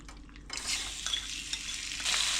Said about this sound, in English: Now I'm gonna cook the beef first.